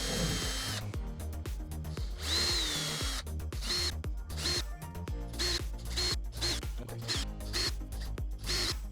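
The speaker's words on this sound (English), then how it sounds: "I will be pre-drilling all of these holes" A power drill bores into plywood in a rapid series of short bursts with quick stops between, close up and fairly loud.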